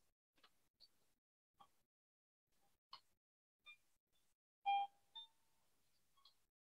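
Short computer beeps and clicks from MS-DOS running on an 8-bit Commodore CBM, heard as a sparse, faint series of brief separate tones, one louder beep near the end, with no talking.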